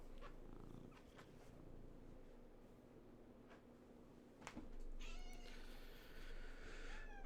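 A house cat purrs steadily at close range for several seconds, then lets out a series of clear, insistent meows near the end, all loud and alone with no talking.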